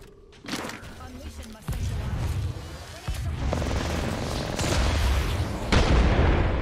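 Booming gunfire and a grenade blast in Apex Legends, with sharp bursts over dense, continuous game noise; several loud hits rise through the clip, ending in a strong impact near the close, while a voice talks throughout.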